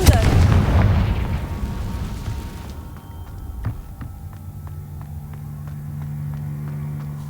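A Confringo spell explodes in the video game Hogwarts Legacy, a loud booming blast with a long rumbling decay, followed by quieter game ambience and a few sharp clicks.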